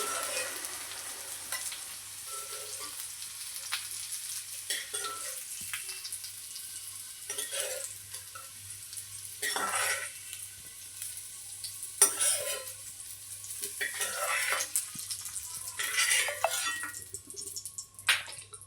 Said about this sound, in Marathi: आपली भेंडी बऱ्यापैकी फ्राय झालेली आहे पण तिला आणखीन आपण एक पाच मिनटं आणखीन फ्राय होऊ देऊ